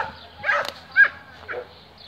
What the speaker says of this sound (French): Ça c'est les chiens des voisins.